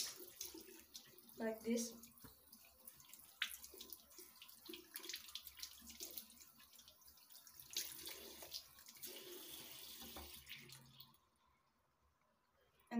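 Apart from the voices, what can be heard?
tap water running while washing hands for ablution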